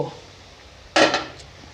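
A pot lid comes off a simmering pot of cauliflower curry with a single close, bright metallic clatter, followed by a brief rattle and a low kitchen hum.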